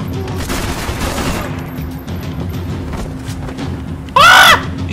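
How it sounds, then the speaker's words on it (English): Gunfire in the video game Max Payne 3, a steady rattle of shots layered under background game noise, with a brief louder burst near the end. "I'm gonna riddle you with bullets"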